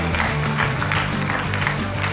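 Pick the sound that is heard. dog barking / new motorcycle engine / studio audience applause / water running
studio audience applause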